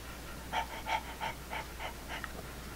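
A pet duck breathes heavily while being held, with a run of rhythmic, close, fairly soft panting breaths repeating steadily over a quiet background.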